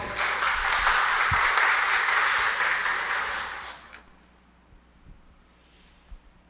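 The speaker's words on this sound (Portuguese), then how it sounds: "o senhor Valdenir Libório, uma salva de palmas." Audience applause at an educational information meeting, a dense burst of clapping that holds steady for about four seconds and then quickly fades into a quiet room.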